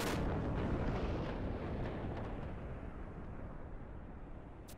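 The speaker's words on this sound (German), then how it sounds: "Sie platziert die Explosion so, dass nur die Quarnos getroffen werden und nicht die Dimitras." A magic explosion spell goes off in Final Fantasy XI, a broad booming blast that rolls out and slowly fades into a low rumble, heard alone.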